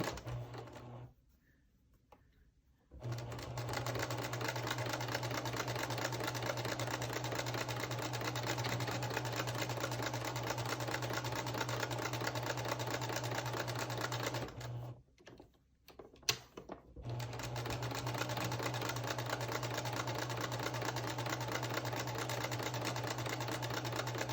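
A sewing machine runs long steady bursts joining quilt block strips, a fast rhythmic needle rattle with a low motor hum, quiet and close, pausing briefly at the start and again midway before resuming; no speech.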